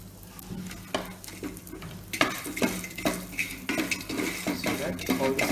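A metal spoon scrapes and clatters in a pan while whole spices roast, javitri, fennel seeds and shah jeera, with a soft dry sizzle beneath irregular stirring knocks that grow busier, no talking.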